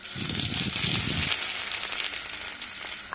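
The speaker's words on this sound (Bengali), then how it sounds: "জিরে দিয়ে হালকা একটু নাড়াচাড়া করে জিরেগুলো ভেজে নিচ্ছি" Cumin seeds crackling and sizzling in hot oil as a tempering for egg pasta, a soft, close frying hiss with a brief burst of stirring early on, then settling into a quieter steady sizzle; no voices.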